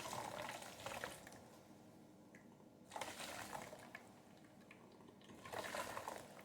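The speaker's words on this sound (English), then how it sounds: "I'm going to pour the whey into it." Goat milk whey and curds are poured from a pot into a bowl, a loose splashing liquid pour in three bursts with quieter gaps between them, fairly close and steady, with no talk.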